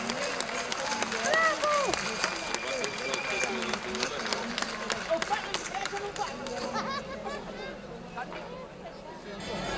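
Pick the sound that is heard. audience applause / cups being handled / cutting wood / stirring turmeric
audience applause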